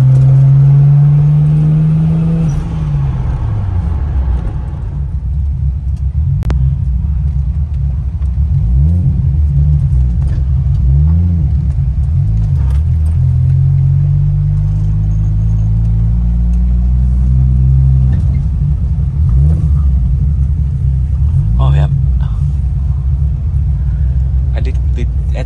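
A car engine revving with two blow-off valves, a deep booming rumble that rises and falls in repeated throttle blips, with sharp hissing pops in between and voices talking over it.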